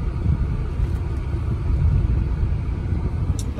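A 2008 Cadillac DTS with a Northstar engine accelerates, giving a steady close low rumble that swells slightly, with no talk over it.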